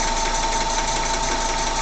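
A small PM Research No. 3 model engine runs with a steady, continuous mechanical drone and a faint whine at a constant level, close by, with no voices.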